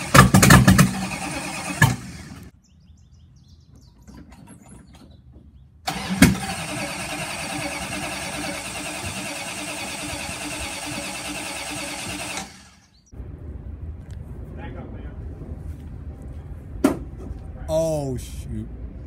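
A car engine cranks and sputters after the gas pedal is pumped, then catches and runs with a steady mid-pitched drone before cutting out, with people talking nearby.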